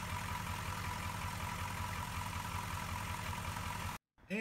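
A GM 6.2 diesel engine in an M1008 CUCV idles after new glow plugs are fitted, with a steady low, pulsing rumble throughout that cuts out briefly near the end.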